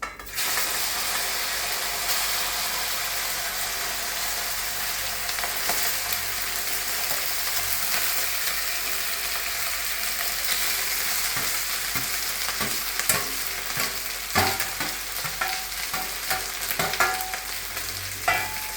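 Cooled cooked rice being stirred through in a pan of cumin and asafoetida tempering, giving a steady close frying sizzle with scraping stir strokes and clatter, no talking.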